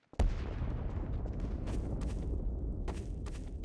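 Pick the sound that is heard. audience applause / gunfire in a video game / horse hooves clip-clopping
gunfire in a video game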